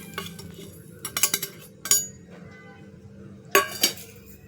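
Roasted areca nut powder being mixed in a bowl, heard as a few close clinks and scrapes of a utensil against the bowl, with quiet gaps between.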